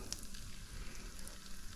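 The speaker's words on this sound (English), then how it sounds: "let's go ahead and fry our porgies" Porgies frying in oil held around 325 degrees, giving a steady, soft, continuous sizzle with no voices.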